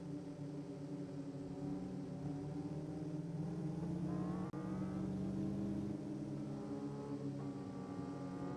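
Race cars in a sim racing game at Florida Motor Speedway drone steadily with layered engine tones, the pitch rising as the pack accelerates away from the start, with no speech.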